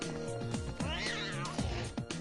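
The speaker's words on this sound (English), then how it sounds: "Should we chase the cat?" A cat meows in the video game Raidou Remastered, a few rising, wavering cries near the middle of a short stretch, set against busy game music and sound effects.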